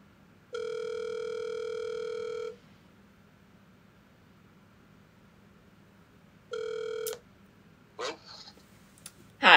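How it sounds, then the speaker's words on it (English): Telephone tones on a forwarded call: a steady two-second tone, a pause, then a shorter repeat, followed by a few brief clicks and beeps, clear and close. "Your call has been forwarded to an automatic voice message."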